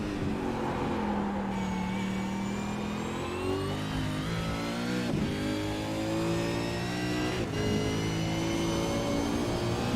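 A V8 Supercars race car in a racing video game, its engine revving hard out of a turn with rising, shifting pitch sweeps across several gear changes, loud and continuous.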